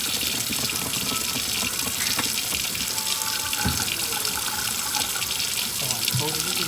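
Tap water runs steadily into a sink while hair dye is rinsed out of hair, a close continuous gush with small splashing changes and a voice heard faintly underneath.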